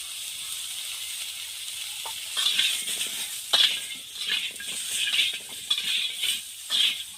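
Potatoes and mixed vegetables for Bengali shukto, with salt and turmeric, are stirred in a hot pan: a steady close sizzle broken by repeated rattling scrapes of the spoon against the pan, with no talking.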